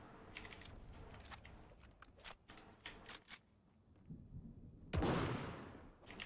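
Sharp Fortnite gunshots crack in quick succession against a low game-like background rumble, with a louder burst near the end.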